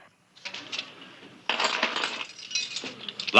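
A ring of metal keys jingles and clinks in bursts, first softly and then louder and nearer, rattling unevenly with brief pauses between shakes.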